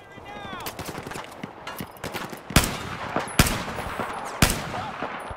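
Gunfire in the Battlefield 4 campaign mission at Baku, with sharp loud rifle shots cracking at irregular intervals over a busy backdrop of distant automatic fire and battle noise.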